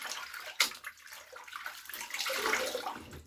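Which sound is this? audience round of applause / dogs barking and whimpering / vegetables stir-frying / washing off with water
washing off with water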